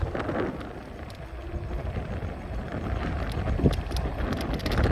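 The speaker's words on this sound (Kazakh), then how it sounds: "Өкінішке орай аудан жел соғып тұр." Strong wind buffets the microphone during a long-distance electric scooter ride on an open road, a continuous low rumbling roar that swells and fades slightly, with no talk over it.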